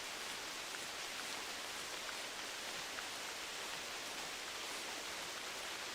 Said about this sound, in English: the rain is so loud I can barely hear you